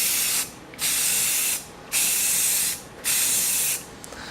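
Aerosol can spraying primer onto car wheel rims in a light coat, three loud, close hissing bursts of roughly a second each, separated by short pauses.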